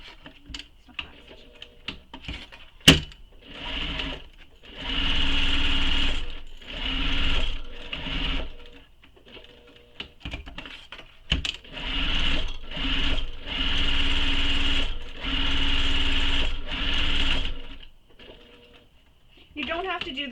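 A sewing machine stitches a bag lining, running in several bursts of steady whirring with short pauses, then reversing for back stitching. The runs are close and fairly loud, separated by quieter handling sounds.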